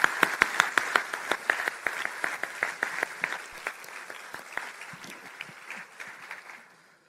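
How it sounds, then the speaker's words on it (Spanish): Clapping at a talk by Mario Alonso Puig starts with sharp individual claps that fall into a rhythmic beat, then thins and fades to silence over about seven seconds. "Un fuerte aplauso, mucho más fuerte,"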